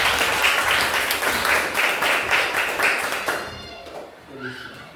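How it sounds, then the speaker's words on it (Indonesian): Classmates clap for a student group in a school classroom, a brisk round with some rhythmic beats that fades after about three seconds, followed by a voice speaking. "Tepuk tangan buat kelompok 2."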